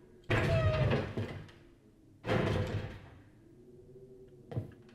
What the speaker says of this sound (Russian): Чё-то дверь-то так тяжело открывать